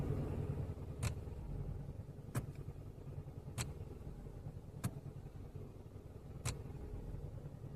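A car engine idles steadily with a low, even rumble, broken by five sharp periodic ticks spaced about a second apart.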